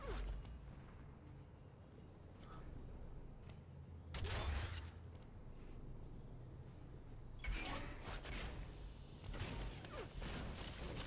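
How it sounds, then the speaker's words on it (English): A lift jump on an Unreal Tournament duel map: a faint mechanical whoosh and clunk of the lift, with a couple of soft swells over a quiet game backdrop. "Taking that lift jump, always so scary in this map because it makes so much noise"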